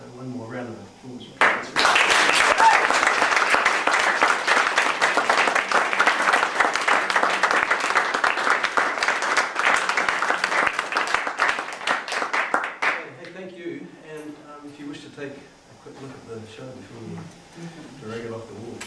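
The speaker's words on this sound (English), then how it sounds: "So one more round of applause." Loud, dense audience applause erupts after a music performance, sustained for about eleven seconds before fading out, followed by someone speaking briefly.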